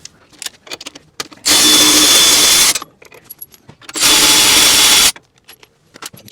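Power tool whirs loudly in two sustained bursts of about two seconds each while removing the rear shocks on a 2024 Harley-Davidson CVO Road Glide, with clinks and taps of hand tools between them.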